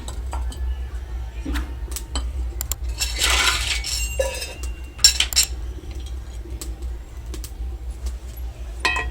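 Freshly made milk tea is strained through a strainer as metal utensils clink and tap irregularly, with a brief rushing pour in the middle, all over a constant low hum.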